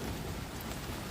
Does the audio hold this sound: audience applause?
no